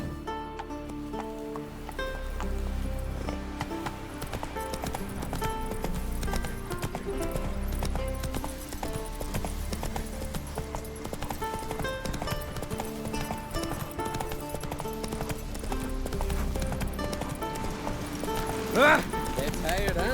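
Hooves clip-clop at a steady gallop as a horse runs in The Witcher 3: Wild Hunt, under continuous game music throughout.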